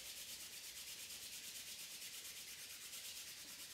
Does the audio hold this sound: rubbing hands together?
yes